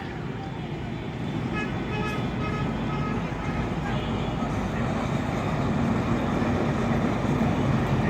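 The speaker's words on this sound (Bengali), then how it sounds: "এটা হচ্ছে নারায়ণগঞ্জের ট্রেন এই ট্রেনটা যাবে কমলাপুর" A passing train from Narayanganj heading to Kamalapur, heard as a steady low rumble and rattle of rolling carriages that grows slightly louder, continuous throughout with no clear gaps.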